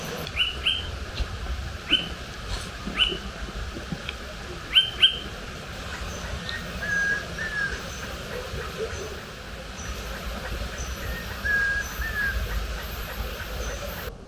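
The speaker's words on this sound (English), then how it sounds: "Just letting you listen to some of the sounds up here on the ridge." Scattered bird chirps and short calls ring out over a low outdoor rumble on a ridge in University Park, Loja, Ecuador, some sharp and close, others softer, with brief faint voice-like sounds.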